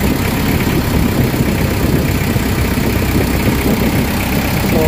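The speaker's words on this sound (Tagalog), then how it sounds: "Kailangan uminit yung ano, yung makina." A Nissan Vanette van engine with a low-power, throttle-delay fault idles while warming up, giving an even, loud, unbroken rumble and faint vibration throughout.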